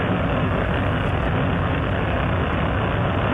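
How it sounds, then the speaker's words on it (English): Space Shuttle Endeavour's booster ignition and liftoff, a dense, saturated roar filling the sound completely at high level with no pauses and no voices. "We have booster ignition and liftoff of the Space Shuttle Endeavour"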